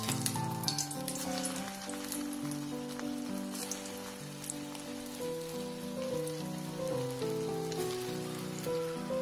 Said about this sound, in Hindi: अब हम इनको करेंगे डीप फ्राई